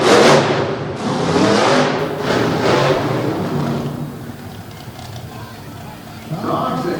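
A 557 cubic inch blower truck racing engine roars loudly at the start, then its note drops as the power is cut and fades to a lower rumble, with crowd noise underneath.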